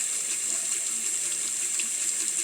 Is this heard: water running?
yes